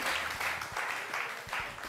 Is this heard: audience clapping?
yes